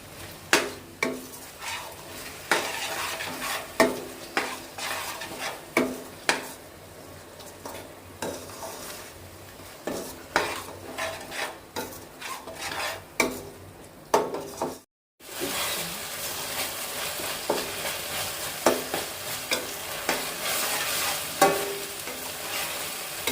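Spicy chicken masala with yogurt frying in a pan, steady sizzle under frequent sharp spatula knocks and scrapes, close, with a brief break midway before the frying carries on louder.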